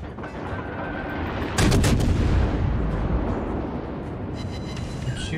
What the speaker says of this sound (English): I'm shooting at General MacArthur